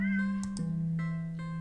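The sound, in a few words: cat meowing in an Itch.io video game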